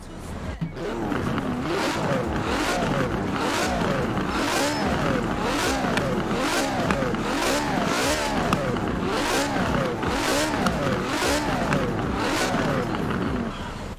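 Ferrari Enzo V12 engine in Forza Horizon 4, revving loudly and steadily for the whole stretch with a dense, harmonic roar that rises and falls in repeated surges.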